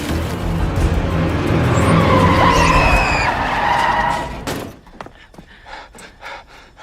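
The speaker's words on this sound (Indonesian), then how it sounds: "ia mendengar suara kendaraan yang akan melintas" A car approaches along a road and skids loudly, tyres squealing for several seconds before the noise cuts off abruptly, leaving quieter background sound.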